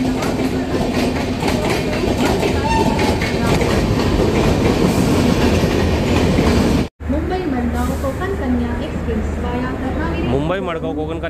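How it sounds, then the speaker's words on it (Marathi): Konkan Kanya Express, Mumbai–Madgaon, pulling in at a busy platform in the monsoon, loud steady rumble and clatter of coaches close by, while someone talks over it throughout. "मुंबई मडगाव कोकण कन्या एक्सप्रेस आलेली आहे प्लॅटफॉर्म नंबर 10 वरती।"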